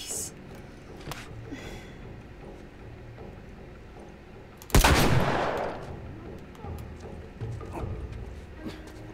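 A burst of assault rifle fire in The Last of Us erupts loud and sharp midway, tailing off into fainter scattered shots, with a person talking around the sounds.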